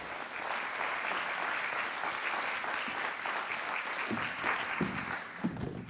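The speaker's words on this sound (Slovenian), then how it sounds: "En velik aplavz za naše sogovornike" Audience applause for panel guests at a leadership conference on digital transformation, a dense steady clapping from a crowd lasting throughout, moderately distant, with a few sharper claps near the end.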